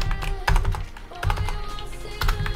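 Rapid clattering keystrokes on a computer keyboard, bursts of quick taps with brief pauses between, close and fairly quiet with no talking.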